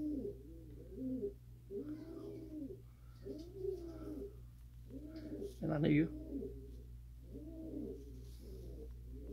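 Pigeons cooing during the capture of high fly pigeons, a series of low rhythmic coos repeating steadily and close by, with a brief spoken remark mixed in midway.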